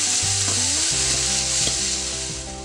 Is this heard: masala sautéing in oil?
yes